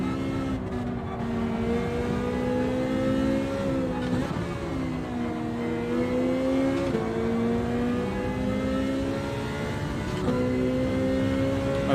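Ferrari race car in Gran Turismo 7, its engine holding a steady high-revving drone with small pitch dips at each gear shift or lift, loud and close for the whole stretch, no talking.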